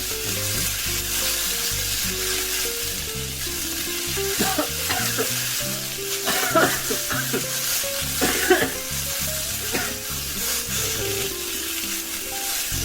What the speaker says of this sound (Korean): 이 페페로치도 기름에 살짝 볶아주면 매운맛이 더 좋아요